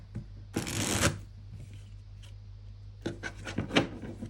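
Tarot cards being shuffled up close in two quick riffling bursts, each a dense papery flutter, separated by a quieter stretch of soft rubbing.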